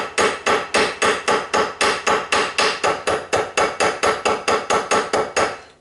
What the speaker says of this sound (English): You also don't hit it. You're not pounding away, you're just giving it nice little taps.